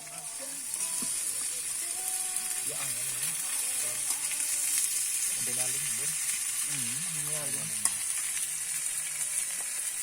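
Green beans sizzle in a frying pan at a night camp on Mount Slamet, reached via the Bambangan route. The hiss is steady and close throughout while people chat in the background.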